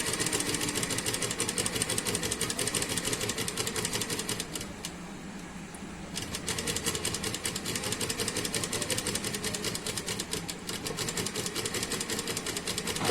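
Stitching along the neckline strip of a suit, a sewing machine chatters in a rapid, steady rhythm, close and loud, pausing briefly midway before resuming its continuous run.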